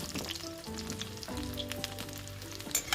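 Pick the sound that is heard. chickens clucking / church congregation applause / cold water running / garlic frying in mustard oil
garlic frying in mustard oil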